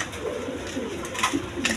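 Good-quality pigeons coo in a brief, low, warbling murmur close by, continuous and unaccompanied by any other sound.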